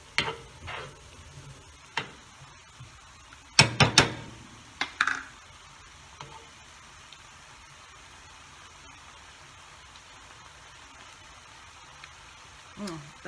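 Collard greens and tomatoes are stirred in a pot: a few scattered scrapes and clinks early on, a brief cluster of louder knocks, then long near-quiet stretches with a faint hiss and one last scrape at the end.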